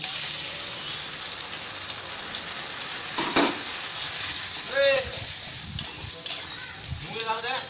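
Onions lightly frying in a pan as a water-mixed spice paste goes in, a continuous soft sizzle with a few clinks and splutters, while a person talks.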